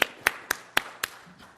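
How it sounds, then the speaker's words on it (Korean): Five distinct hand claps in a church service, evenly spaced and fairly close, sharp and separate rather than a full applause, with a quiet room between them. "박수 한번 하면 좋겠는데"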